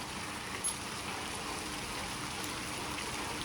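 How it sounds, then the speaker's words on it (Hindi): Steady summer rain falls on surfaces outdoors, a dense, even hiss of drops with a faint trickle of water running throughout, holding at a constant moderate level with no voices. "ये देखें आहिस्ता आहिस्ता जो है ना बारिश तेज़ हो रही है"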